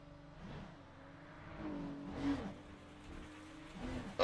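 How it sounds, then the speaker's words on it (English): A GT3 race car in a racing video game approaches at Monza, its engine whirring and revving in rising and falling surges at moderate volume. "Car coming."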